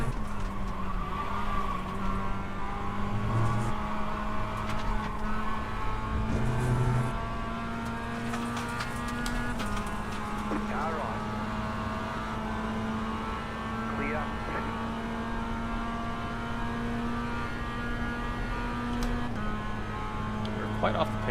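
Mazda MX-5 race car engine in iRacing at Virginia International Raceway droning steadily throughout, with shifting pitch as it revs, faint tire squeal, and a voice talking over it.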